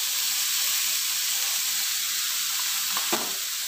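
Carrot, beans and onion sauté in a pan over full flame, giving a loud, steady sizzle with a brief stirring clatter near the end.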